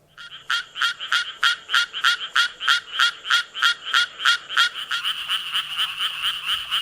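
Japanese treefrog giving a fast run of about fourteen evenly spaced, loud, raspy croaks, close up and alone, then fading into a softer continuous trill.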